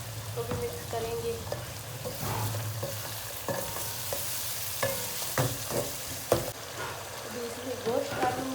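Masala and salt sizzling in a hot pan while being stirred, with repeated scraping clatters of the spoon over a constant crackle, and a voice speaking over it.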